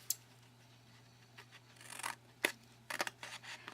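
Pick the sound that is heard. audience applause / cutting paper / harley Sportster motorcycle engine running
cutting paper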